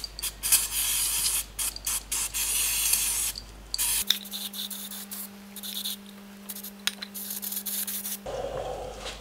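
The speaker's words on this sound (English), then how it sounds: "Now we'll take our Carby cleaner and I'll give that a good cleaning." Carburettor cleaner hisses from an aerosol can in repeated short and longer bursts onto a bare Toyota Land Cruiser 200 Series oil filter housing, close up, alongside rubbing and handling noises.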